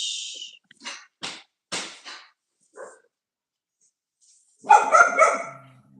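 Dogs barking indoors, a run of short sharp barks spaced about half a second apart, then a pause and a louder burst of overlapping barks close by.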